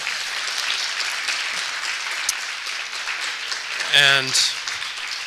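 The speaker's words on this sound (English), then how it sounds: "Maybe I'll ask you one last round of applause for these incredible musicians on the bandstand." An audience at a jazz festival concert claps steadily for the musicians, a broad wash of applause continuing throughout, with a brief spoken word near the end.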